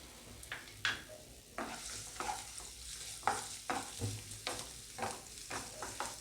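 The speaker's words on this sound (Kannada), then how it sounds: "ಈರುಳ್ಳಿ ಹಾಕ್ಕೊಂಡು ಸ್ವಲ್ಪ ಫ್ರೈ ಮಾಡ್ತಾಯಿದ್ದೀನಿ" Onions frying in oil for a green pea and potato kurma, with a soft sizzle under a string of stirring scrapes and knocks from a spoon against the pan, close and moderately loud.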